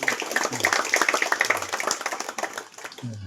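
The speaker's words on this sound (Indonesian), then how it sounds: "Mari kita buat aplaus untuk Bapak Bernard dulu" An audience at a small, limited face-to-face campaign gathering in Kampung Siwi applauds Bapak Bernard, a candidate for regent, with steady, dense clapping that is close and fairly loud throughout.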